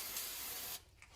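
Carb cleaner sprayed from an aerosol can onto a lawn mower deck, a steady loud hiss for most of a second that cuts off abruptly, followed by faint handling noise.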